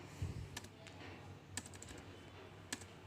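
Several light keyboard clicks in short bursts, spaced out and fairly faint over a low steady room hum, from typing on a computer keyboard while looking up a word.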